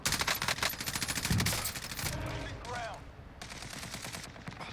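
Rapid assault-rifle gunfire in the video game Warzone, with bursts of shots and overlapping game sounds, fairly quiet in the mix.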